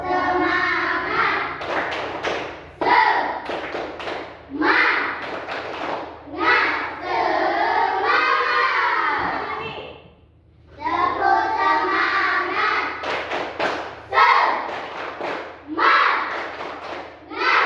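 A group of children claps a rhythmic 'tepuk semangat' cheer in a classroom, bursts of patterned hand claps mixed with chanting young voices, pausing briefly midway and then resuming.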